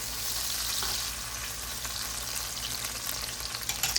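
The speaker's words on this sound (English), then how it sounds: "we're letting these onions sort of wilt down a little bit" Onions wilting in a hot pan give a steady, close sizzle that runs the whole time with no talking, and a few soft crackles come near the end.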